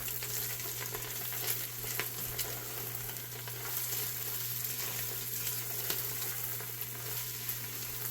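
Onions and seasonings sizzling in a pot for creamy taco soup, a soft, even hiss that holds steady without pauses and sits low in the background.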